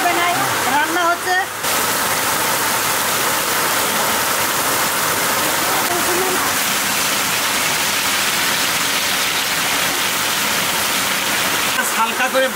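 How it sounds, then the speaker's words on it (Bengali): Heavy rain pours down steadily over an outdoor village cooking spot, a dense, continuous hiss that stays loud throughout, with a voice briefly talking near the start and again at the end. "মাথা খারাপ বৃষ্টি নেমেছে এমন"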